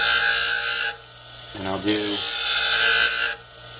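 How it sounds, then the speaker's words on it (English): Pinking shears sharpened on a sharpening wheel: two long, loud grinding rasps separated by a short gap filled by a brief voice. "So we'll go ahead and clamp this in, make a start, pass across the wheel"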